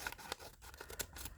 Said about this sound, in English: we're going to use the scissors again to cut the middle part